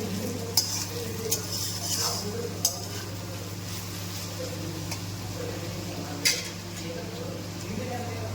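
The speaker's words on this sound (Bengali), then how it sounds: "আর এদিকে সবজিগুলো ভাজা হচ্ছে।" Vegetables frying in a pan, a low steady sizzle with a few sharp clinks of a spatula against the pan, heard close up.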